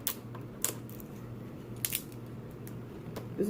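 Scissors cut through crab legs at a seafood meal, a few faint crisp snips and cracks over a low steady background hum, with no talk.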